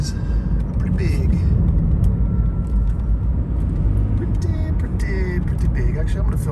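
A car drives along a wooded road from Crescent City to Gasquet, California, with a steady loud engine and road rumble throughout and faint clicks and bumps over it.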